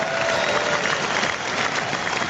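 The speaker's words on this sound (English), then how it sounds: "We have the super applause today because we are joined by a couple of superstars." Studio audience applause on a talk show, a loud, dense and unbroken wash of clapping throughout, with some crowd noise mixed in.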